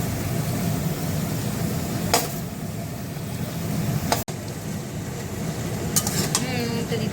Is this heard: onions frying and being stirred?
yes